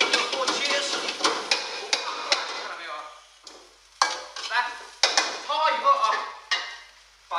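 Scallions tossed in a wok with green Sichuan peppercorns and dried chilies, a spatula scraping and clattering in quick irregular strokes over a soft sizzle of oil, close and fairly loud.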